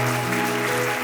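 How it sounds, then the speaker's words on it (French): A church congregation claps loudly and steadily in a brief burst of applause. "applaudissez bien fort"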